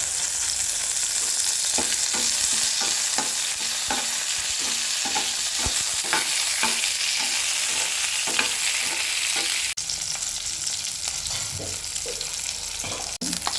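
Curry leaves spit and crackle in hot oil for oil-rich brinjal curry, with steady sizzle throughout and repeated scraping stir strokes in a regular rhythm, loud and close, no talk.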